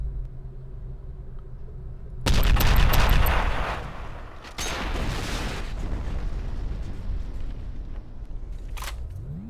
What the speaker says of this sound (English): Time to use some rockets.